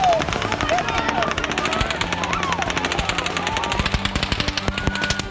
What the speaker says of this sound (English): we heard the gunshots kept on going on